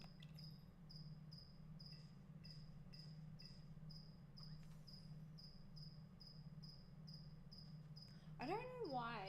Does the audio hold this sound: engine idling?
no